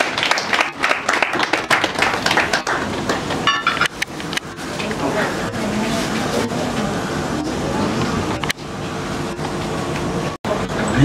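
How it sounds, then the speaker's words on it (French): An audience at a ceremony in the commune of Lingwala applauding, with dense clapping at the start that thins into a lingering crowd murmur and scattered claps. "Sous vos applaudissements"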